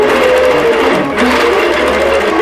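Embroidery machine stitching a design onto a quilt block, a loud, steady, rapid mechanical whir running continuously up close.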